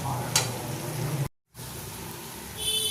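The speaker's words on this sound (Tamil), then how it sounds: "பார்த்தீங்கன்னா நெய் நல்லா ரெடி ஆகிட்டே வந்துட்டுருக்கு. இந்த பபுள்ஸ் அடங்கணும்." Homemade ghee from butter bubbling and sizzling in a wide, heavy-bottomed pan, a close, steady crackle briefly cut to silence and then resuming, with a faint clink near the start.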